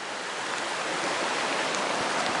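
A rising brown river, swollen after heavy rain, flows in a continuous broad rush of water, loud and close with no break.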